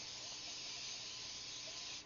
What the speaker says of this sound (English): then you're going to want to use a non-stick spray